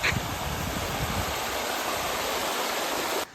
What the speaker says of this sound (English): here is like a little creek